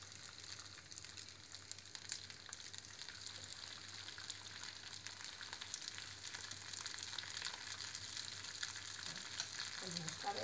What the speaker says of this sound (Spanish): Ahora ya está a punto, entonces lo podemos directamente ya freír.